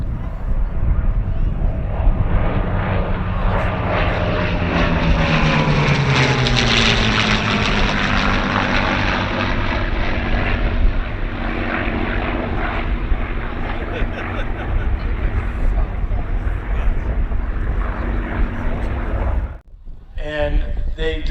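A World War II P-51 Mustang piloted by Tom Richard makes a low pass at an airshow, its loud piston-engine drone swelling and sliding down in pitch as it passes, with talk running under the roar.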